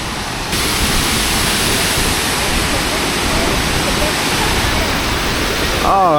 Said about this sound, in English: This kind of waterfall I wish I could swim in, but not allowed.